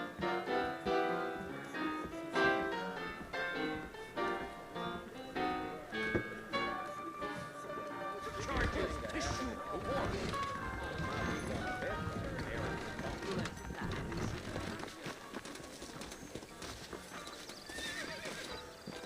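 Horses' hooves clip-clop steadily in the Red Dead Redemption video game, mid-distance with neighs, under ongoing character dialogue and background music.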